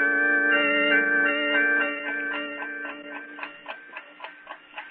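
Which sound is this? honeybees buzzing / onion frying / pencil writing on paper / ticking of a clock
ticking of a clock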